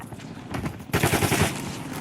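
Gunfire in Call of Duty, a short rattle of quieter shots followed by a louder, denser automatic burst of rapid cracks, with no talking.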